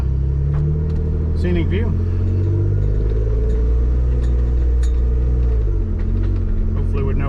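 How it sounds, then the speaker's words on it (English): Off-road vehicle with a quiet exhaust idling and crawling along a mountain trail, a steady low engine rumble throughout with someone talking over it. "the quiet exhaust again, the way it should be"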